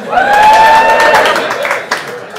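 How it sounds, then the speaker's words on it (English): Comedy club crowd breaks into applause and cheering, a loud close wash of clapping with a shout riding on top, fading toward the end. "a round of applause if you love roads"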